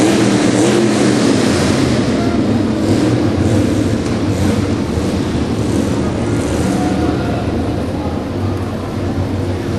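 V8 off-road racing trucks roar at a speedway, a loud, sustained engine drone with a wash of crowd and track noise heard from a distance.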